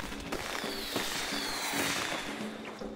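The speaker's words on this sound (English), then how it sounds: "Do we still have the... well, fireworks?" Fireworks in the video game Anno 1800, a steady crackle of small bursts and pops running throughout, fairly faint and distant, with no talk over it.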